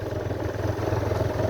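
A motorcycle ridden on a hill road gives a steady, close engine drone with an even throb and no break or speech for the short stretch.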